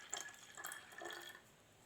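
Vinegar poured in a small amount into a bottle, a faint, brief trickle and splash close by with no voices.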